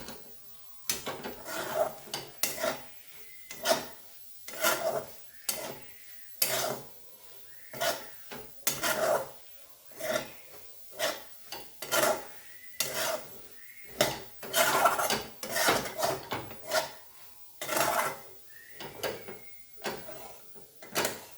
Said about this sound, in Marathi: हे वाटण चांगलं परतल्यानंतर अगदी 2-3 मिनिटच परतायचं आहे याला